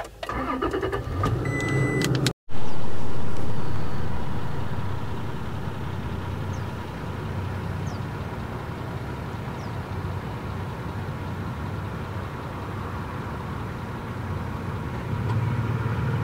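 Truck driving down a highway: steady, continuous road and engine noise with broad tire rumble, a brief clunk and dropout near the start, then an even drone throughout.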